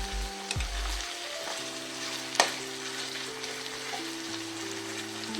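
Spices sizzle in plenty of hot oil for an egg curry, a faint, steady frying hiss with a few light clinks and stirring sounds.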